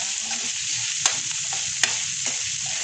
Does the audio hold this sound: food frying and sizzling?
yes